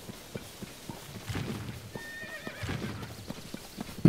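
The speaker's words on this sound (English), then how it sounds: "call our horse" A horse in Zelda: Tears of the Kingdom answers a call with a clear whinny, joined by hoof clip-clops and soft thuds, all fairly close and free of talk.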